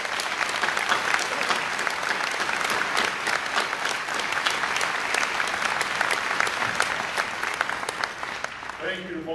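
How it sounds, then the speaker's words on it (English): Audience applause at a college scholarship ceremony: a full, even wash of clapping from a large crowd that holds steady for about nine seconds, with a voice starting to speak just as it ends. "Let's congratulate them at this time and show our applause."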